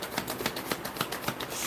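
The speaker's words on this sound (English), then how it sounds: "And give one more shuffle." Tarot cards being shuffled by hand, a soft papery riffle with rapid repeated flicks, fairly close and quiet, with no voice.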